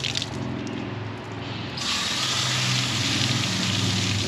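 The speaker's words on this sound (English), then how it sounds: "Gonna sit here and spray it out for a bit." A hose sprays water hard onto a Harley-Davidson Road Glide Special motorcycle, a continuous close hiss that grows louder and broader partway through as the spray hits the bike more directly.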